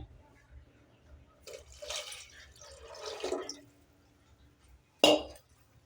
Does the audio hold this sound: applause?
no